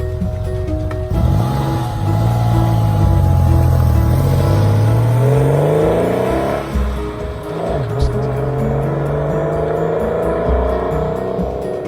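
A Porsche 993 C2S pulls away with a loud, close engine note that rises and falls through the gears, its tone sweeping upward as it accelerates.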